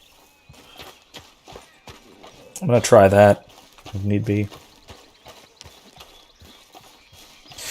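Horse hooves clip-clop at an easy, regular pace in Red Dead Redemption, crisp clops repeating throughout while someone speaks over them in a few short bursts.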